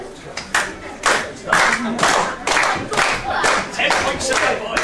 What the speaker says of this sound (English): you get a clap again